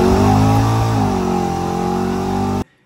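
A naturally aspirated small-block Chevy V8 with high-flowing heads revs hard in a loud, sustained wail that holds steady and then cuts off abruptly near the end.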